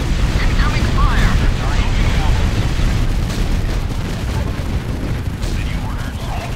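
Incoming artillery fire in the desert skirmish strategy game Art of War 3, a loud continuous barrage of overlapping blasts and booms with dense crackling gunfire, sustained and heavy throughout.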